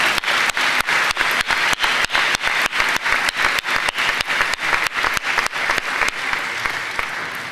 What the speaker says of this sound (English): Would you join me in another round of applause for George Saab?